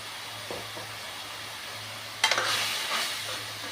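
Spices crackle and sizzle in hot mustard oil for a tempering as the pan is stirred, a soft hiss at first that swells into a louder burst partway through, over a low hum.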